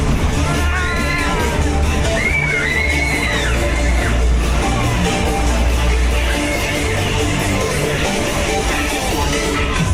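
Riders yell and whoop over the loud, continuous roar of a Laser Dome Waltzer spinning at Bolsover Funfair, with several high screams rising out of the din early on amid steady ride noise and music.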